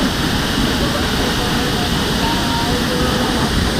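Strong current pouring over an 11-foot waterfall at a small, remote site, a steady loud broadband roar of rushing water that fills the whole clip without a break.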